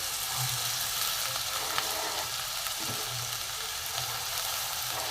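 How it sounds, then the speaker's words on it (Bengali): Potatoes frying in mustard oil in a hot pan, giving a steady close sizzle and crackle throughout with faint stirring, and no one talking. "প্রথমে আমি দেবো আলু আলুটা একটু ভালো করে ভেজে নেব"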